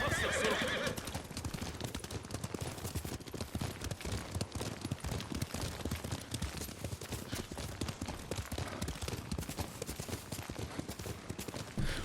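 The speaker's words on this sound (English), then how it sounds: "we kind of have to follow Yuriko around on our horse for a little bit here" A horse in the Ghost of Tsushima video game whinnies at the start, then its hooves clip-clop rapidly and continuously at a gallop over a busy, noisy game background.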